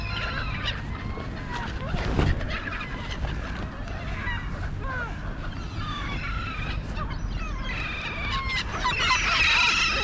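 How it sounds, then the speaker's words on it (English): Silver gulls squawk and call over and over, several birds at once, above a steady low rumble of nearby traffic. "There's our silver gulls."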